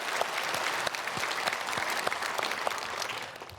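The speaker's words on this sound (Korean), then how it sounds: "우리 박수로 축복하겠습니다." A church congregation at a Sunday service applauds the choir after its hymn, a dense, steady wash of clapping from many hands that stays fairly even throughout with no voices on top.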